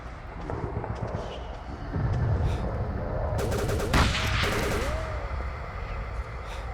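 Gunfire in the horror game Call of Cthulhu: Dark Corners of the Earth, a run of loud close shots that picks up midway and clusters in a sharp burst, over a dense game soundscape with rumbling ambience and creature-like cries.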